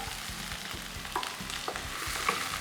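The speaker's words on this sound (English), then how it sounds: "After that, we'll add some onion" Onions sweating in a pan for bread upma, a steady low sizzle with soft stirring scrapes, close and fairly quiet, no voices.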